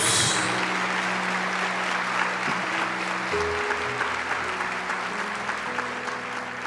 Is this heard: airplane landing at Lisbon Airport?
no